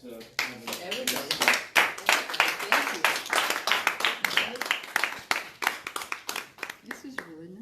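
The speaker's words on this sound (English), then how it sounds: "Give a round of applause to Everybody." An audience at a local history speaker series gives a round of applause, a dense burst of clapping lasting several seconds that stays close and loud before gradually thinning out, with speech mixed in.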